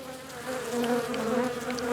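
Dense, continuous buzzing of many honeybees on a hive frame, a steady close drone that swells slightly midway, with no voices.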